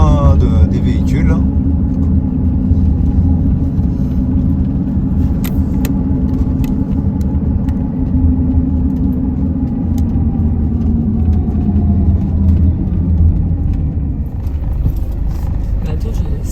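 Vehicles run along a desert road near the Morocco–Mauritania border, a steady close engine and tyre drone holding throughout, with a faint voice and light rattles over it.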